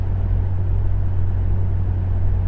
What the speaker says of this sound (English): an aftermarket dual exhaust that sounds really good